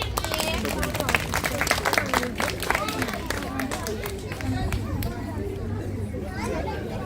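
A children's theatre audience at the Masal Ağacı play claps for a child named Mira: dense, uneven clapping runs steadily throughout, mixed with crowd chatter and children's voices.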